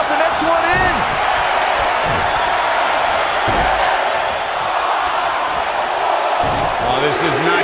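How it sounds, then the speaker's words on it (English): A large arena crowd in the WWE 2K19 Women's Royal Rumble simulation roars and chants in unison, counting along as a steady wall of noise beneath continuous commentary. "Listen to this crowd count the next one in."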